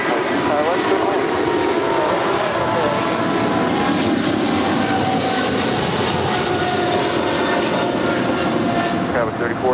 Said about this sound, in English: That was China's Southern Cargo, Flight 446, departing to Shanghai. It's a 777 freighter.